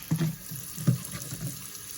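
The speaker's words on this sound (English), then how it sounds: "Swish them around in my vinegar water wash." Strawberries swished by hand in a vinegar water wash in a sink: two or three brief watery sloshes and splashes close by, with a soft running-water wash between them and no talking.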